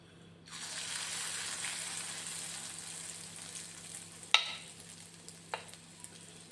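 A ladle of chicken omelette batter hits hot oil with a sudden sizzle that keeps hissing steadily and close, with a couple of sharp clinks of the ladle near the end and no talking.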